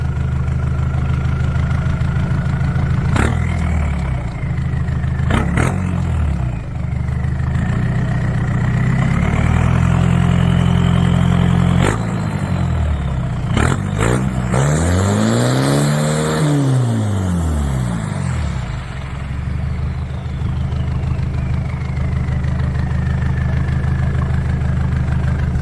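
Car engine fitted with a new crossover pipe idles steadily and loud, then revs up several times in sharp bursts and one longer rising-and-falling swell before settling back to idle, recorded close with no talking.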